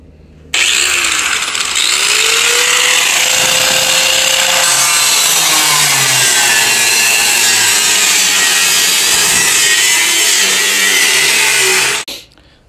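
A power tool grinds continuously against welded metal on a washing-machine drum being made into a fire pit, a loud harsh rasp that runs steadily for about eleven seconds before cutting off abruptly.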